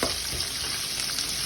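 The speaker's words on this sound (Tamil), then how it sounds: "ஆட் பண்ணிவிட்டு நல்லா மிக்ஸ் பண்ணி கொடுத்துடலாம்" Fennel, cumin, curry leaves, dried and green chilies, garlic and ginger fry in hot oil for crab masala, a dense close sizzle with stirring, brief and continuous.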